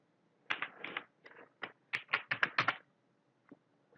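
Code being typed on a computer keyboard during a C programming tutorial, a fast run of sharp, close key taps in clustered bursts, with a few isolated taps trailing off near the end.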